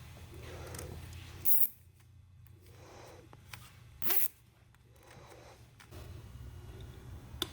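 A zip tie is fastened around EGT sensor wiring on a BoonDocker exhaust for a Polaris snowmobile: two quick, sharp ratcheting zips stand out against quiet background handling noise.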